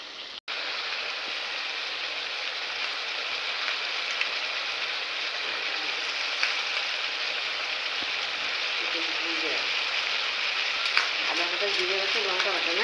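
Chicken cooking in a pan with dried chilli, bay leaf and onion: a loud, even, continuous sizzle that goes on throughout, with faint scraping near the end.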